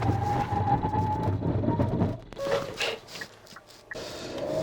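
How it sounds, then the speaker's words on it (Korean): A Hyundai Palisade braking hard from 100 km/h gives a heavy cabin road rumble that drops away as the car slows, followed by quieter interior noise and a few faint clicks and chimes. "시속 100이고요. 제동 한번 해보겠습니다."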